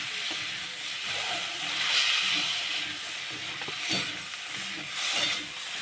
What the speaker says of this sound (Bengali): সবগুলো ভালো করে কষিয়ে নেব।